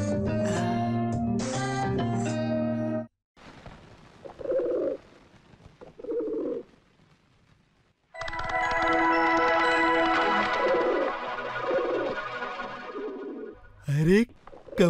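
A carrier pigeon bearing a letter coos in two short, soft bursts amid a Hindi film scene, set between stretches of loud music and voices, with the cooing standing out briefly in quieter gaps.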